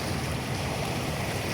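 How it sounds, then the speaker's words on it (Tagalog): Steady sea surf washing against the shore with wind gusting over it, a constant near wash of broadband noise with no distinct individual breakers and no one talking. "ingay lang ng dagat, tsaka hampas ng alon, simoy ng hangin"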